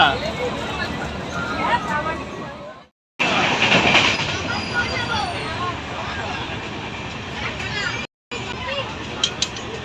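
Inside a moving passenger train, a continuous loud rumble and rattle runs throughout, with voices talking over it and two brief dropouts.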